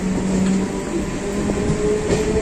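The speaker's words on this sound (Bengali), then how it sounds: "ট্রেনটা এবার স্পিড নিয়েছে" A Sealdah local train rumbles along steadily at speed, with constant broadband roar and faint metallic tones and squeals riding over it.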